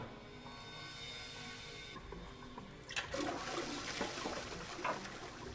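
A toilet in 999: Nine Hours, Nine Persons, Nine Doors flushes loudly, a sudden burst of rushing, gurgling water following a low hum and lasting several seconds.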